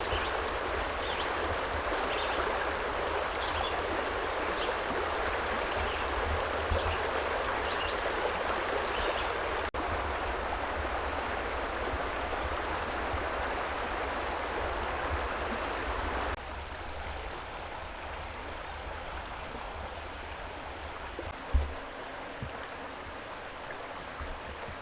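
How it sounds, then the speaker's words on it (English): A small river flows past a park pond in a state forest, its steady broadband rush continuous and fairly close, shifting slightly in tone partway through, with a brief knock near the end and no voices. "A little river flowing by is a nice addition to all the stationary water over there."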